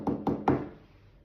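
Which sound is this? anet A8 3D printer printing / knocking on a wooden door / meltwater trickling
knocking on a wooden door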